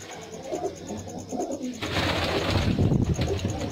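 Several tail-feathered pigeons coo in a home loft, low throaty calls close by, growing denser and louder partway through with overlapping birds and a busy background.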